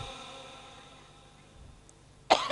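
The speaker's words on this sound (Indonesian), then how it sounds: "Tah itu teh ngaranna batuk." A single sharp cough bursts out near the end of a comedic religious sermon, loud and close after a stretch of quiet room tone.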